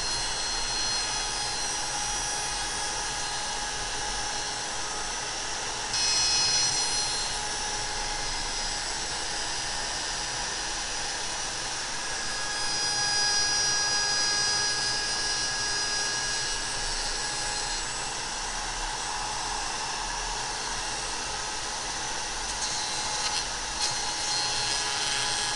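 A mini router table trims wood along a pattern template, giving a loud, steady high-pitched whine that runs unbroken, with slight swells in pitch as the bit cuts.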